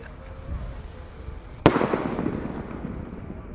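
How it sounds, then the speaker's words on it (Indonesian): Gold dragon firework rocket launching during a Ramadan night, heard as a sudden sharp bang followed by a fading rushing hiss, close and loud against faint background noise. "Oke teman, langsung kita nyalakan. Sudah menyala bosku. Roket gold dragon roket."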